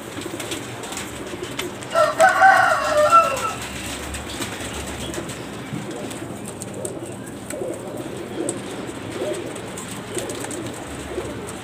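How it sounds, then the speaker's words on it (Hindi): Teddy pigeons coo and flap their wings in a loft in Lahore, with a brief burst of wingbeats early on, then soft cooing over a steady background. "ये कबूतर आप देख लें अच्छे म्यारी कबूतर है"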